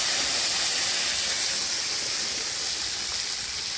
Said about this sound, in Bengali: তো এদিকে একটা তরকারি রান্না হচ্ছে